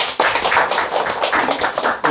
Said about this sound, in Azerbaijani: Təbii ki, bütün bunlar hamısı sizlərin alqışları ilə olacaq